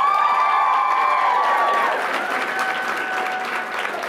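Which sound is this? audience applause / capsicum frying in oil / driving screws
audience applause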